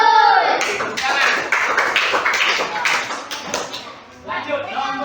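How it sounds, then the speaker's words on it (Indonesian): A class of fourth-grade pupils clapping together in a classroom, a short burst of quick, bright hand claps with children's voices mixed in. "Tepuk tangan."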